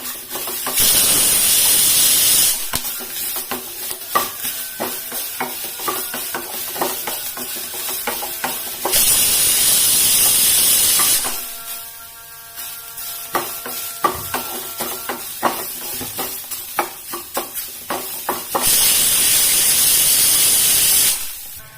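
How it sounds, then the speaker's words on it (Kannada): Garlic and ginger frying in a pan hiss and sizzle steadily, with bursts of louder spitting and faint scraping from stirring throughout. "ಒಂದಿಷ್ಟು ಬೆಳ್ಳುಳ್ಳಿ ಹಾಕೋತೇನೆ ನಾನು. ಶುಂಠಿ ಹಾಕೋತೇನೆ, ಫ್ರೈ ಮಾಡ್ಕೋಬೇಕು."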